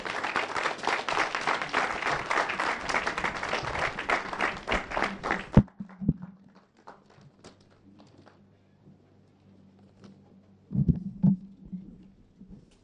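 An audience at a foundation launch gives a dense round of applause for about five seconds before it cuts off abruptly, leaving near silence with a few faint knocks and low murmurs.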